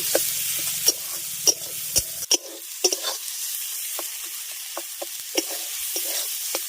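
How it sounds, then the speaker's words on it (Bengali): A pan of mustard, poppy seed, green chilli and coconut paste sizzles steadily while a spoon scrapes and stirs it in repeated sharp strokes, close and moderately loud, with a low hum briefly underneath at the start. "প্রথমে ভেজে নিচ্ছি হালকা করে ভাজবো সর্ষে"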